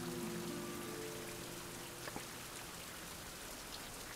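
Steady rain in a survival video game, a soft continuous hiss of falling drops with a faint low hum fading out at the start.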